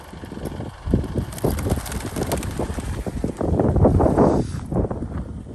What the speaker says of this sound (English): Big wind.